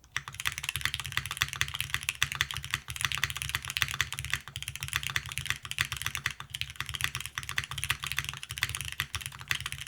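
Someone types steadily on an Aepex 60 mechanical keyboard fitted with granite switches, giving a dense, continuous run of close, fairly deep keystroke clacks with no talking.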